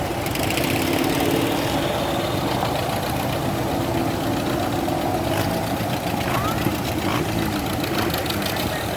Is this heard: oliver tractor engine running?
yes